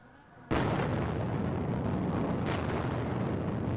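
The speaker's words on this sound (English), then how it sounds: "Explosions throwing huge plumes of smoke and debris in the air." Explosions from Israeli airstrikes on southern Beirut: a sudden loud onset into a sustained, dense roar and rumble, with a second burst partway through, no talk.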